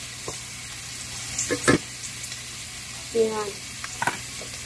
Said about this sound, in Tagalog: i-brown muna natin si onion ng konti